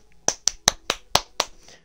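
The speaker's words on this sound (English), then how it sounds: "clap, clap, clap." Six crisp hand claps in a steady rhythm, close and fairly loud, with short gaps of quiet between them.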